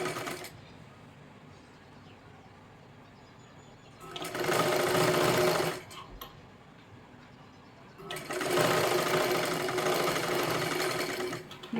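A sewing machine stitches a princess blouse in two long, steady runs of close motor whirring, separated by short quiet pauses with faint handling.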